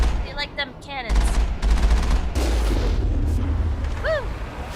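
Rapid cannon and gunfire in the video game Mass Effect, booming heavy shots and bursts of automatic fire layered with whooshing sci-fi effects and a rising weapon whine, loud and continuous with a brief voice mixed in.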